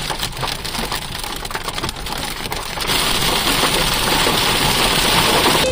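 Dense hail and rain pelting a hard surface, a steady clattering roar that grows louder partway through, with an engine idling underneath.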